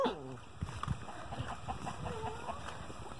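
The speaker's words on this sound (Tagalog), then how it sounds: "Oh. Chicken!" Chickens cluck nearby in short bursts while people talk over them, with outdoor farmyard ambience where a carabao is kept in the background.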